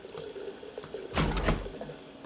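A player character in the video game Prey drinks mysteriously green water, a short liquid slurp and splash that swells briefly in the middle of a quiet, low-level background.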